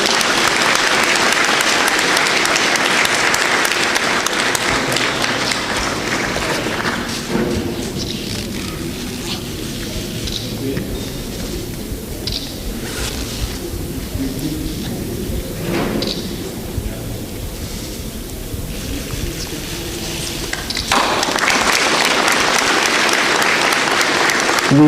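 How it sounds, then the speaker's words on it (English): Applause from an audience at the launch of the Ajira Club, following a document signing by chief guests and a vice-chancellor. A loud, dense burst of clapping opens, eases into quieter scattered claps, then swells again at the end. "Let's clap."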